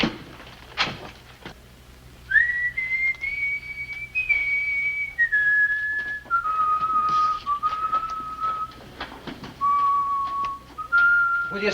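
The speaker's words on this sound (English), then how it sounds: "Will you stop that infernal whistling?" A man whistles a slow tune, clear sustained notes stepping up and down in pitch across several phrases, close and alone with a faint low hum underneath.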